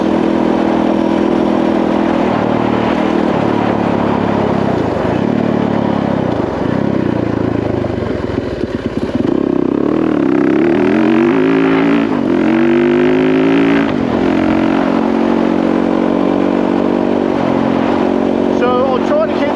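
A loud Yamaha WR trail motorcycle engine drones continuously while riding through forest terrain, its revs rising and falling as the rider shifts and accelerates, close to the rider.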